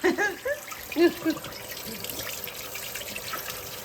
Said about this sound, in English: we're running this cold water on here, y'all, so we can cool these taters down